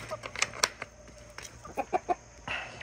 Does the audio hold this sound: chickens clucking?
yes